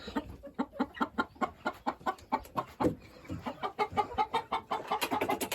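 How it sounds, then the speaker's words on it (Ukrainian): Backyard chickens, including a naked-neck hen, give a steady run of soft, rhythmic clucks at close range, one bird after another with no voices. "Отак наші курочки. Сидять."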